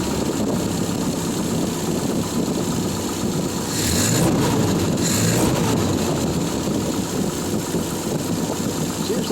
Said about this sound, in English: Seems like it's idling just a hair high.